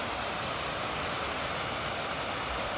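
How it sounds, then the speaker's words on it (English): A constant broad rushing roar of falling water, unbroken and even throughout, with no voices. "Look at that waterfall."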